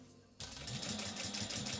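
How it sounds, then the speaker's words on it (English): A sewing machine stitches fabric dumpling pouches. After a brief quiet moment it starts up close by with a steady, fast mechanical whir and needle chatter that keep going evenly to the end. "That way I can just sew them all up and have them ready to go."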